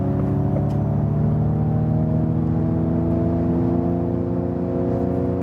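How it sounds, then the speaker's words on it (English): Ford Mustang Mach-E electric crossover accelerating in untamed mode, its synthetic sound generator producing a steady layered hum that rises gently in pitch under constant road and motor whir, loud and continuous. "you also heard this electric sound, this sound generator then"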